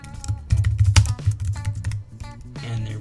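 Typing on a computer keyboard while adding text in Photoshop makes a quick close run of clicking keystrokes, dense at first and then easing off.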